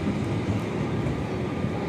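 The 22906 Okha SF Express rolls between Rajkot and Jamnagar with a loud, steady rumble and broad roar of wheels on track, heard continuously from aboard.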